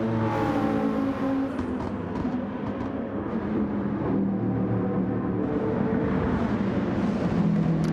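Nissan GTR race car engine droning at sustained high revs in a racing video game on a highway circuit, steady and close with a slight rise in pitch and no voices.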